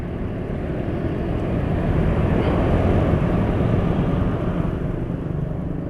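A Yamaha NMAX scooter engine idles on Prima XP 20W50 oil, a steady, even low rumble with a smooth hum that holds constant throughout, near and alone without voices.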